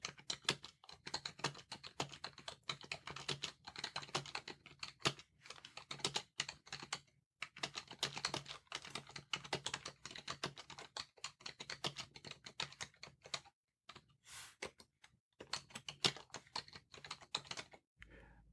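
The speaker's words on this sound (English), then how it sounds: "I just finished a little typing" Quick taps on a phone's on-screen keyboard click in irregular bursts with short pauses between them, close and fairly quiet, with no talking.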